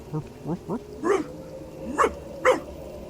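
Harsh, growly barks come from an undead zombie dog in the fantasy RPG Divinity: Original Sin: three quick low yelps, then three louder snarling barks spaced unevenly, close up over faint ambient game sound.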